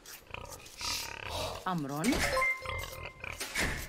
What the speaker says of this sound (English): Pigs, I guess.